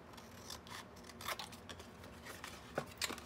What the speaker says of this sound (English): So I wanna cut off all the extra flaps.